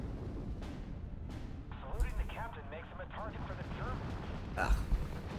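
A 20mm gun fires in the WWII strategy game Steel Division: Normandy 44, with sharp reports, dull booms and distant battle noise. Someone talks over much of the firing.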